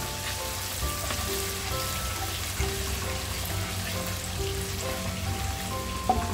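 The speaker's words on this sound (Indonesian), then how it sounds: "Kita masuk bawang putih. Kita kacau hingga garing." Garlic sizzles in a pan with oil while being stirred for a butter chicken dish, a steady, even crackle and hiss throughout with occasional faint clinks.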